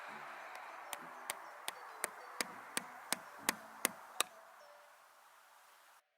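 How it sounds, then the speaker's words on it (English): About ten sharp mallet taps drive a metal maple sap spout into the tapping hole of a tree outdoors, hitting at a steady, quickening rhythm that gets slightly louder toward the end, then stops. No one talks. "Place your tap in the hole and gently pound it into place with a mallet."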